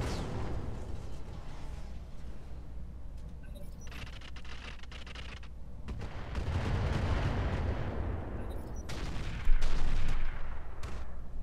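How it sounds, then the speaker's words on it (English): An artillery barrage hitting enemies in the mech strategy game Roguetech, a sustained crackle of distant blasts that builds into heavier rumbling explosions, with one strong impact near the end. "Firing at enemies. Got the barrage on him."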